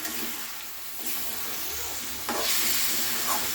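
Cauliflower and potato curry sizzles in a pan after a little water is splashed in, a steady close hiss that swells louder as the water hits.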